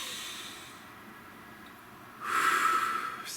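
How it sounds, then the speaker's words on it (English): A deep breath drawn in and let out slowly, a soft airy hiss swelling louder near the end, close and alone with no talk. "So nice deep breath."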